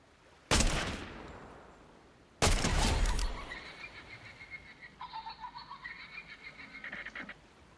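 Gunfire from a weapon in the Fortnite video game: two sharp, loud blasts a couple of seconds apart, the second followed by a ringing tonal tail and a rapid rhythmic rattle of pulses.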